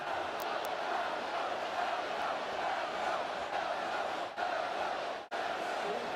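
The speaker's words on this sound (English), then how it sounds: "Crowd chanting Elko." A large crowd at a Texas vs Texas A&M college football game roars and chants "Elko" together in a big open stadium, a steady wash of voices with brief dips.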